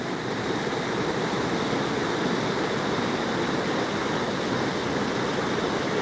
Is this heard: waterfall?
yes